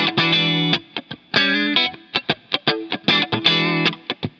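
A funk electric guitar with distortion and chorus-like effects plays choppy accents on the first and third partials of a triplet, alternating sustained chord stabs with short muted scratches in a tight repeating rhythm, loud and alone.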